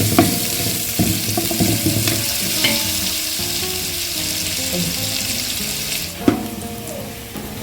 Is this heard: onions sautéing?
yes